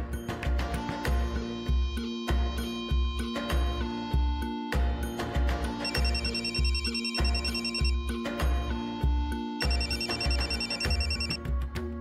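A telephone rings loud and insistent with a repeating electronic ringtone pattern that continues steadily throughout, with no one talking.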